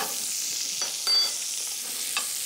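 Fruit stirred into butter and sugar in a pan, a soft steady sizzle with a few brief scraping strokes of the spoon, close and fairly quiet, no voices.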